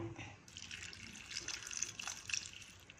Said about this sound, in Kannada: ಇದಕ್ಕೆ ಸ್ವಲ್ಪನೇ ನೀರು ಹಾಕೋಣ